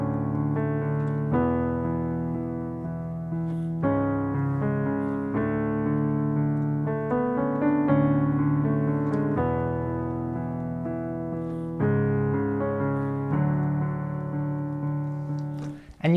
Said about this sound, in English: I like to just repeat this thumb right here on every single beat